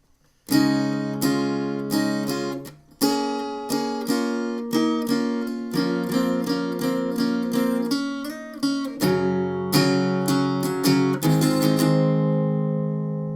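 A steady strummed guitar rhythm with quick up-and-down strokes moves through a few chords of a song, close and clear with no voices.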